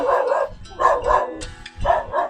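Dogs barking close by in three loud bursts of two or three sharp barks each, separated by short pauses.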